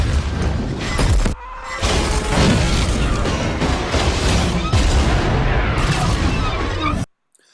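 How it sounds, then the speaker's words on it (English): A film's train crash from Super 8, where a small car stops a train and it explodes, comes as a loud continuous roar of crashing and blasting with heavy impacts, cutting out briefly then ending abruptly. "A small car managed to stop a train and explode it spectacularly."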